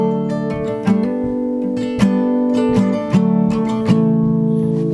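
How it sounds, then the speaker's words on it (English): Acoustic guitar playing a second part, a repeating pattern of strummed chords with crisp attacks about once a second and ringing sustain between them. "I could have another guitar part go like this."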